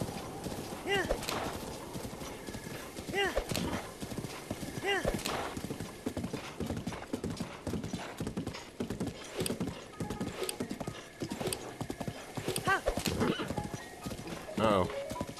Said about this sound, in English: I mean, I've got my fast horse back.